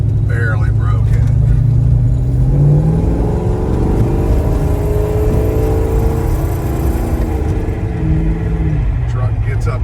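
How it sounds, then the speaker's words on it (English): A restored 1972 Chevrolet C10 pickup revs and pulls away, its engine note rising and swelling loud and close over a steady roar, with a voice talking over part of it. "Truck gets up and goes."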